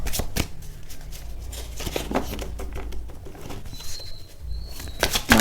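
A deck of tarot cards is shuffled up close, making rapid fluttering riffles and papery slaps in quick repeated bursts.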